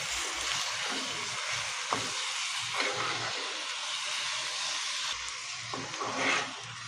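Chicken liver frying in a masala mix in a pan, a steady close sizzling hiss with occasional small pops and stirring noises, no talking.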